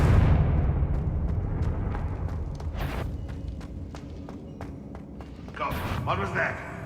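Blasting spell explosions in Hogwarts Legacy, a heavy rumbling blast that decays slowly, punctuated by sharp cracks and a second burst near the end, mixed with game ambience.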